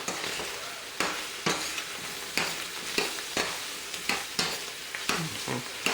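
Leftover pulled pork in a pan with seasoning being stirred through, a steady sizzle under repeated scraping strokes of a spoon against the pan, about one stroke per second, close and fairly loud.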